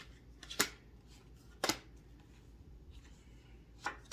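Tarot cards being handled and shuffled, a few quick riffling bursts separated by quiet pauses, close but soft, with no voices.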